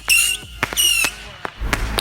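Small backyard firework going off in a rapid series of sharp pops and crackles with whistling tones, loud and close, several bursts within about two seconds.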